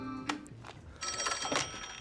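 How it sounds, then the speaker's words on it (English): Telephone ringing in The Flash movie, short repeated bell-like trills, fairly quiet and heard alone. "Phone."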